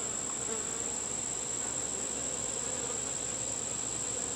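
Steady, continuous buzzing of many honey bees, an even droning hum with no pauses and no voices.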